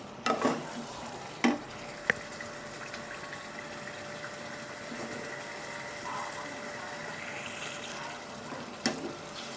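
Chicken liver and gizzard frying on medium heat in a pan, with a steady soft sizzle throughout and a few scraping stirs of a spoon, close and fairly quiet, no talking.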